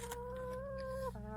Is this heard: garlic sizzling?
no